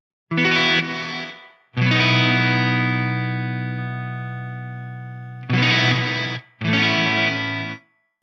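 Electric guitar through an Eventide H9 reverb and delay pedal: four sustained chords, one long ringing swell fading slowly, heavy shimmering wash and trails, no voice.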